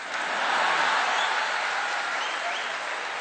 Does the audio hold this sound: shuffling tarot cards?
no